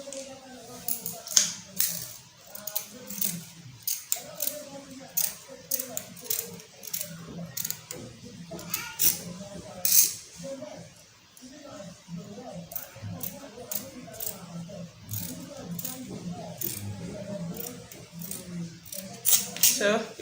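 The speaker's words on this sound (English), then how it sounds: "So after connecting the line together now I'm going to cut it out." Fabric scissors snip out dress pieces for a pleated maxi dress with a yoke, making repeated short, close cutting crunches in irregular bursts while someone talks over them.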